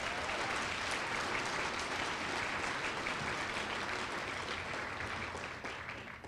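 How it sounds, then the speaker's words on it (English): Sustained audience applause at the 2014 Green & Gold Gala, Colorado State University, a dense crowd clapping loudly and steadily throughout, easing slightly at the very end. "Let's give them a round of applause for their leadership."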